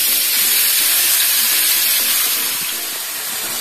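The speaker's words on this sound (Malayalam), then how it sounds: "ഇനി ആ എണ്ണയിലേക്ക് നമുക്ക് ക്ലീൻ ചെയ്ത് വെച്ചിരിക്കുന്ന ചിക്കൻ പീസ് ഇട്ട് കൊടുക്കാം" Cleaned chicken pieces go into hot oil for a chicken masala, giving a loud, dense, continuous sizzle heard close up with no talking, easing slightly toward the end.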